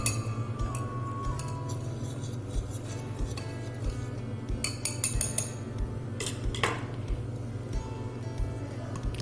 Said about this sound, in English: I'm going to give it a light whisk so it's equally distributed.